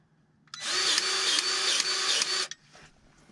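A grease gun forces old, hardened grease out of a fitting with a loud, close mechanical whirring buzz lasting about two seconds, pulsing slightly in rhythm, then cutting off abruptly into near silence.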